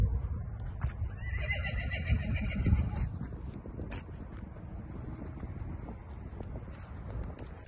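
A young Texas Blue Valentine Phantom quarter horse colt, fresh off the pasture, gives a loud nearby whinny early on, followed by a softer outdoor stretch with wind noise and faint hoof movement, no talking.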